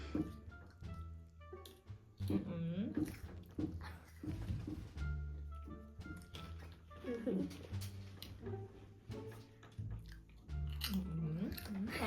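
Candy being chewed and crunched during a party eating game, wet biting and squishing sounds close to the mic, mixed in with lively talking throughout.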